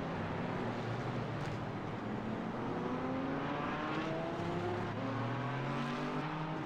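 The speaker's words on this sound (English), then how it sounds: "I hear cars." Steady engine drone of several GT4 race cars running at a distance at Spa, with rising pitch sweeps as engines rev and accelerate, continuous throughout with no talking.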